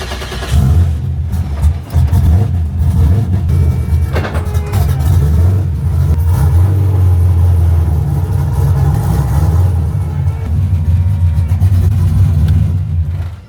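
An LS V8-powered car revs and drives, its deep engine rumble loud and continuous throughout, with throttle swells and no talk over it.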